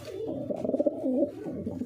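A female hobby pigeon coos steadily and close by, a soft, continuous low warbling with slight pulses that runs the whole moment without pause.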